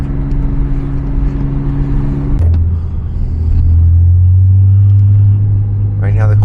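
A 2006 Porsche Cayman S with a six-speed gearbox drives along, its engine a low steady rumble that shifts pitch midway and climbs slightly, heard from inside the car with a faint voice near the end.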